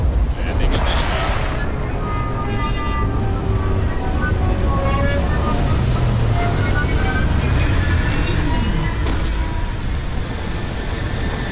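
A spaceship landing in Starfield, a loud roaring engine rumble with a rising whine and sweeping tonal hum, continuous and close throughout.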